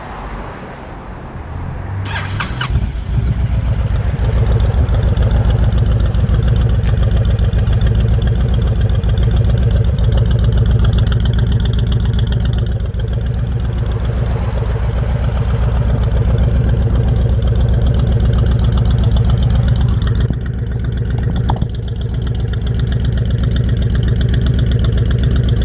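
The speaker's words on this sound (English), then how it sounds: "I'm going to turn it on now." A Honda Fury motorcycle starts up with a brief crank, then settles into a steady, loud, deep idle with an even rumbling pulse that holds throughout, close to the bike.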